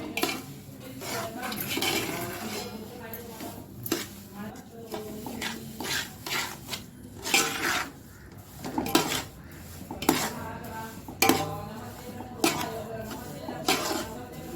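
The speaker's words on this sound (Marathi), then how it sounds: "पिकलेल्या केळीचे काप घालून घेते आणि ते पण चांगले परतून घेणार आहे" Ripe banana slices sauté in ghee in a pan for prasad sheera, a spoon scraping and clinking against the metal in a steady, busy rhythm over a soft sizzle for the whole stretch.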